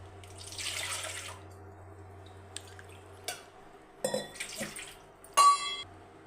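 Water is poured into a pot in a home kitchen to make rice flour dough, heard as short bursts of splashing water and light clinks of a metal vessel over a low background hum.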